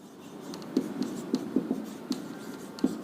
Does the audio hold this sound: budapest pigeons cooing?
no